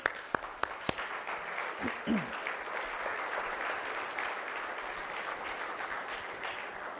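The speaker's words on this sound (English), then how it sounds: "so we can give you a round of applause" A crowd claps steadily for several seconds, a dense patter of applause following a few sharp opening claps.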